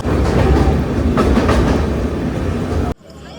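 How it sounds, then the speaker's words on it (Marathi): A train roars past close by at a station platform in heavy rain, a loud, steady rumble that cuts off abruptly near the end, leaving quieter background noise. "चार नंबरला लागते ही ट्रेन"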